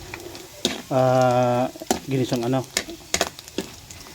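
Pork frying golden brown in a pan, giving a continuous sizzle under a person's talking, with a sustained sung or hummed tone and a few sharp clicks.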